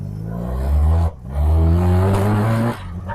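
A first-generation Mazda RX-7 fitted with a swapped RX-8 six-speed transmission pulls hard in second gear, its loud rotary engine revving up, dropping briefly, then climbing again before easing off.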